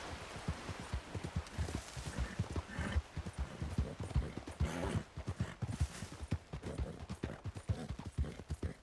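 Horse hooves clip-clop in a role-play video game, a steady, rhythmic run of quick hoofbeats continuing throughout, soft overall with a rain-like wash in the background.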